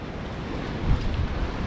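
Choppy ocean waves wash against a fishing pier at night, a continuous close rushing surge mixed with wind noise and no voices.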